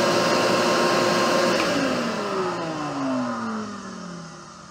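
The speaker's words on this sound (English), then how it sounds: "then we'll turn on this kind of generic shop vac version" A name-brand shop vacuum runs loud and close with a steady whine, then winds down as its motor pitch slides lower.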